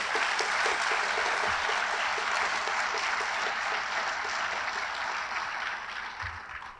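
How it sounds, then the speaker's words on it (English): A crowd at a Winston-Salem Fire Department graduation ceremony applauds its firefighters, with dense, steady clapping filling the room for several seconds before it gradually thins out. "Let's give them a round of applause."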